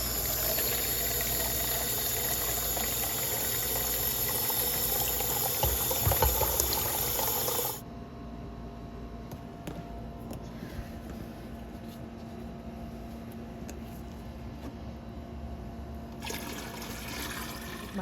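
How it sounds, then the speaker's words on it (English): Tap water gushing into a measuring cup, a loud, steady rush that stops after about eight seconds, leaving a quieter room hum with faint trickles. "I'm gonna fill this up to the 4-cup 32-ounce line twice."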